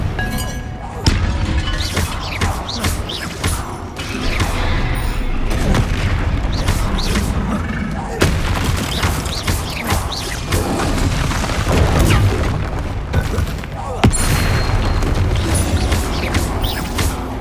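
Bombarda spell explosions going off repeatedly during a troll fight in Hogwarts Legacy, loud booming blasts and crashing impacts layered with other combat sounds, spells and shattering debris throughout.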